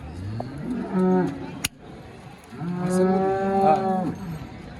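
Murrah buffaloes at a livestock market in Ghodegaon low loudly nearby, two long drawn-out bellows separated by a brief sharp click, with faint crowd noise in the background.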